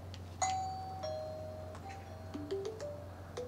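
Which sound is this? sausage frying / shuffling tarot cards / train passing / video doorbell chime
video doorbell chime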